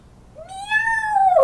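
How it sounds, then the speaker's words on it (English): During a children's storytime, kittens are heard as one loud, close, drawn-out meow that rises and then slowly falls, with no other sound around it. ""Meow," say the kittens"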